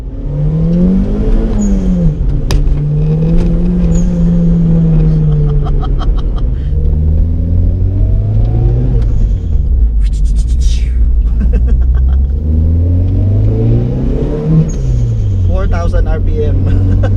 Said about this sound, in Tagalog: 1990 Toyota Celica